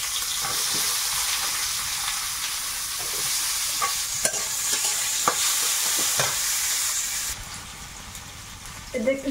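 Chopped onion frying in oil with panch phoron and bay leaf: a close, continuous sizzle with scattered spoon clicks and scrapes, dropping quieter near the end, when a brief voice comes in.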